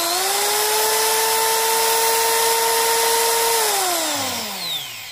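An electric drill whirs steadily at a constant pitch, then winds down as the motor is released, close and loud, while powering a spinning-disc electricity meter.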